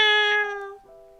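A small cat in the video game Nameless lets out one clear, tonal meow, close and plaintive, falling in pitch as it trails off.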